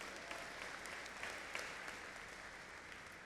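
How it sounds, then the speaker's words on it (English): Graduating class cheering and applauding at a university convocation ceremony, a broad sustained roar of clapping heard from some distance across a large hall, with scattered sharper claps and faint shouts mixed in. "Yes, you can cheer."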